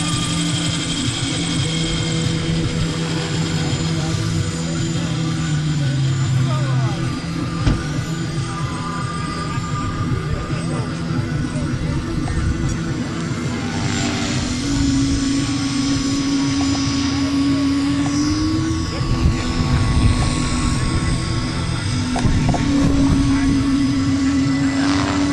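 A radio-controlled model helicopter flying at a helicopter fun-fly event: a loud, continuous high-pitched motor whine and rotor buzz that shifts in pitch as it maneuvers, with people talking intermittently nearby.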